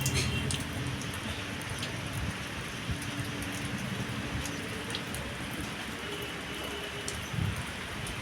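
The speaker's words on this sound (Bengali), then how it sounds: "আর দেখো বৃষ্টি শুরু হয়ে গেছে।" Light rain falls outdoors in a steady, soft, close hiss with scattered drop taps and a faint low rumble beneath, and no one talks.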